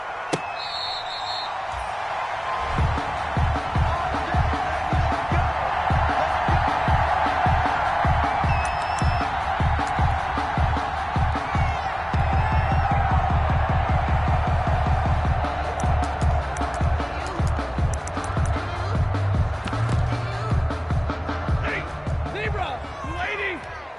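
Stadium crowd noise in a video game football match between the Miami Dolphins and the Chicago Bears, a constant roar with rhythmic thumping, under steady commentator talk.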